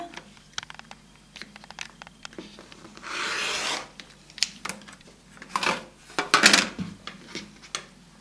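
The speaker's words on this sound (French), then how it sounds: "Vous le coupez également sur une diagonale." Scissors cut a 15 cm fabric square along its diagonal for a quilt block, with close, quiet snipping and rasping strokes and a couple of longer sliding rubs of blade on fabric.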